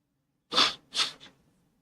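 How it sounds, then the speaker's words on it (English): Two quick forceful nasal blasts, close up, followed by a softer short puff, like someone blowing their nose. "Blow my nose real quick."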